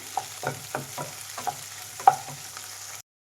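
Egg stir-frying with vegetables in a pan for street-food-style egg noodles, with soft sizzling under a series of spatula scrapes and taps at an uneven rhythm, close and moderately quiet, no voices.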